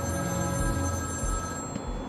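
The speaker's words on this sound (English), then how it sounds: "What, if I pick up the phone?" Telephone ringing in the video game Batman Arkham City, a steady electronic ring with bright sustained tones, moderately loud and continuous with no voices.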